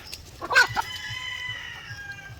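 Rhode Island Red chickens clucking, with a short, raised vocal call standing out over quieter low clucks and faint farmyard background.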